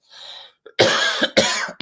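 A person coughs hard from laughing: a soft breathy lead-in, then two loud, close, rasping coughs and a short catch of breath at the end.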